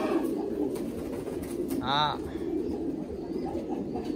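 Thai Titan pigeons in a loft give a soft coo near the middle amid a low murmur of other birds, while a person speaks briefly nearby.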